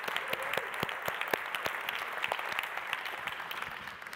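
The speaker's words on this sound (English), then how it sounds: "So let's give them a round of applause." Audience applause for a live band at a Citroën C4 Cactus press conference launch event: steady dense clapping from a crowd in an indoor hall, sustained and fairly loud throughout with scattered sharper individual claps.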